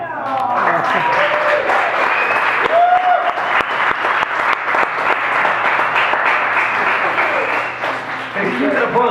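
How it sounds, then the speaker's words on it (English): A stand-up comedy audience breaks into sustained applause, dense clapping and a few cheers filling the room for several seconds, with a voice speaking over the crowd noise. "keep that applause going for Andrew Llewellyn"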